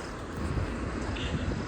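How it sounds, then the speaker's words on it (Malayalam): Strong wind buffeting the microphone on a night journey through Muthanga forest in Wayanad, a steady broadband roar of gusts with no talk, loud and continuous throughout. "നല്ല കാറ്റുണ്ട് ഇവിടെ."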